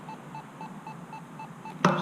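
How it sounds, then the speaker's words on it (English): An electronic device emits short, evenly spaced beeps, about eight quick pips in a steady rhythm as its adjustment knob is turned, ending in a louder click, with no talk. "Now it starts beeping, so I slow it down."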